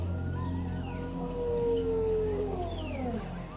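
A howling, wolf-like dog call in a Spanish-language witch story drifts in a long sliding tone over a low droning background, with fainter calls echoing far off, and no speech.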